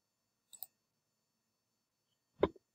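Two separate computer mouse clicks, close and crisp, spaced about two seconds apart in an otherwise silent room.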